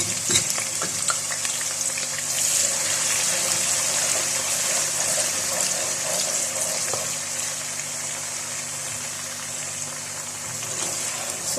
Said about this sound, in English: pour in my onions.